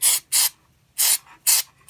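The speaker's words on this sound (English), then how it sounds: "I'm just going to use some spray grease" Lithium spray grease is sprayed onto a John Deere tractor steering worm in four sharp, close hissing bursts with short pauses between them.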